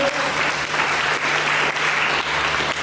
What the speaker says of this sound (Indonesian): Berikan tepuk tangan kalian